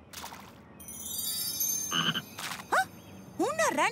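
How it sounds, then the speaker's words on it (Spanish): A green jumping frog in a children's cartoon croaks in a lively series, accompanied by bright sliding, springy tones and chimes that rise and fall near the end. "¡Una rana verde y saltarina!"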